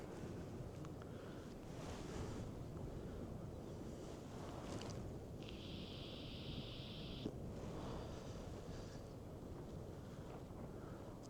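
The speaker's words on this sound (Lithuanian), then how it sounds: "Šiandien labai vėjuota." Strong wind blowing outdoors beside a pond, a steady broadband rush buffeting the microphone throughout with no talking.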